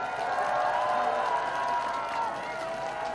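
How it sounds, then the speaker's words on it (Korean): A political rally crowd outside Gangnam Station in Seoul applauds and cheers together, a continuous, fairly distant roar of many voices and hands with no break. "약속을 잘 지켜주시라고 큰 박수로 보내주십시오."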